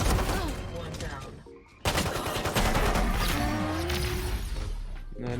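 Rapid gunfire bursts and single shots from the Valorant video game, loud and dense with brief gaps, alongside game effects and a sharp rise in intensity midway.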